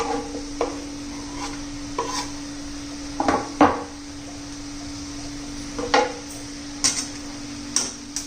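Spoon stirring a potato and coriander vegetable mixture in a pan, giving scattered light scrapes and taps against the pan over a steady faint sizzle.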